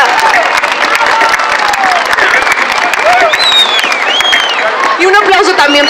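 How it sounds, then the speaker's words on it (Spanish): An audience at an urban highline competition applauds loudly and steadily throughout, with cheers and whistles mixed into the dense clapping while a voice speaks over it. "Un aplauso, por favor, para Tlaloc Moctezuma de Amecameca."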